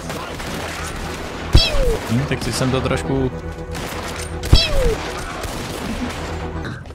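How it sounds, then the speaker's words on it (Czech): Gunfire in a video game, two sharp bursts about three seconds apart cutting through excited talking and game noise. "Musí jít samý přesně mířený výstřely."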